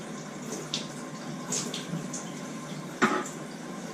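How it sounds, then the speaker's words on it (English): Water runs from a tap with a soft continuous splash and occasional louder gurgles and drips, close by with no talking. "I'm just letting the water run"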